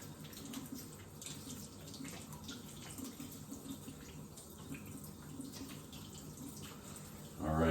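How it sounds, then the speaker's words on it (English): Tap water running steadily into a sink during hand washing in a nursing hygiene lesson, a soft, even gush that ends with a louder splash as hands move under the stream. "I'm leaving the water running"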